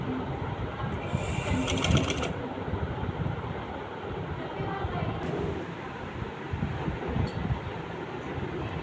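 A sewing machine runs steadily, stitching the sleeve of a kameez, its mechanical hum and rapid needle rattle continuous at close range with a brief brighter burst near the start.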